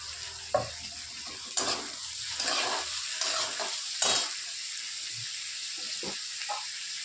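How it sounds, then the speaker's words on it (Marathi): Chopped tomato and onion, two onions to one tomato, frying in a pan for a potato dosa filling, with a steady sizzle and hiss broken by several sharp spoon scrapes and stirring clatters, close and fairly loud, with no talk. "कांदा लाल झाला आपला टमाटर टाकत आहोत एक दोन कांदे आणि एक टमाटर"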